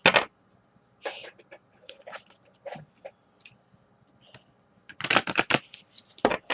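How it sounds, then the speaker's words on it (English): Tarot cards from a Saints and Mystics deck shuffled in several quick riffling bursts, with a louder cluster of crisp flicks toward the end and quiet pauses between. "Shuffle it 3 times."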